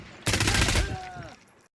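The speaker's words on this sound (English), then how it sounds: "Stop shooting me!" Gunfire in a multiplayer PvP shooter game, a dense burst of rapid shots starting abruptly and lasting about a second, loud and close, then tailing off, with players' voices mixed in.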